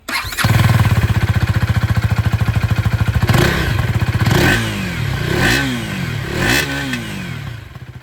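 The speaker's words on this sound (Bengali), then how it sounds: "এক্সস্ট সাউন্ড আমি আপনাদেরকে শুনিয়ে দিই। স্টার্ট করি এখানে আমি ডিউক 250।" A KTM Duke 250 motorcycle starts up and settles into a steady close idle, then revs several times in sharp rising and falling bursts through its exhaust, with no talk.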